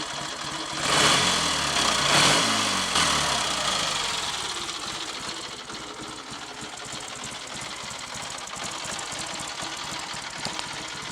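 A Triumph Trophy TR5 motorcycle engine idling at a very slow tick-over, an even, steady mechanical patter that carries on alone for the whole stretch, with a brief louder rise near the start before settling into a quiet, regular beat.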